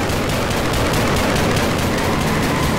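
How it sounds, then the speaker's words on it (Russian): Rapid gunfire from a gun in Garry's Mod, a continuous loud stream of overlapping shots with no pauses, close and harsh throughout. "Хочу посмотреть, как ты будешь фигачить пушкой."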